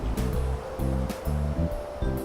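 Beach waves in the survival video game ARK: Survival Evolved, heard as loud, close surf. The waves wash in repeated rushing swells about every half second to second, layered over a low ambient drone.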